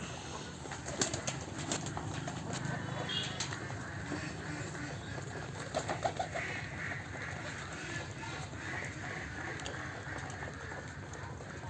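Pet pigeons kept in a loft coo softly and continuously at moderate distance, with brief wing flutters mixed into a low, even background.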